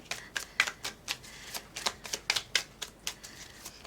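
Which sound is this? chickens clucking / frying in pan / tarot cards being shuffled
tarot cards being shuffled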